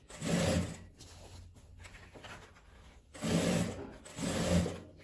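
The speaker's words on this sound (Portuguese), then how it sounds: "Que eu venho costurando nessa parte aberta aqui da canaleta do viés" A home sewing machine stitches bias binding onto a sewing machine cover, running in three bursts of motor whir and needle clatter separated by quieter pauses where the fabric is handled; close and steady, with no talking.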